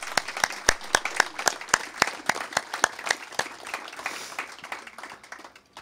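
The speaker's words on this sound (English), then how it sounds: "How about a round of applause for these fine folks?" An outdoor audience gives a round of applause at the grand opening of a courtyard, scattered sharp claps ringing out steadily at moderate distance, gradually thinning toward the end.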